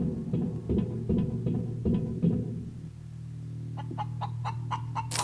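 A chicken in the space-survival game Breathedge clucks in a short series of rhythmic calls over a steady low engine-like drone, followed by a brighter run of sharper chirping clucks near the end.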